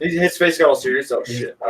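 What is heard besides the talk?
None of the usual background noises is heard.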